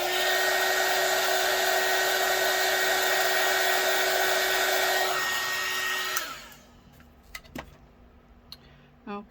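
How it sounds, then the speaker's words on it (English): A heat gun blows over UV resin ocean-themed pendants with a loud, steady high-pitched whir that cuts off after about six seconds, followed by a few light taps and clicks. "Heat gun again."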